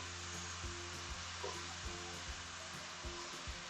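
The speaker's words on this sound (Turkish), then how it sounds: "Ve soğanı yumuşayana kadar güzelce kavuruyorum." Chopped onion and five or six garlic cloves are sautéed in a pan for an olive-oil borlotti bean dish: a faint, steady sizzle with soft, regular knocks from stirring.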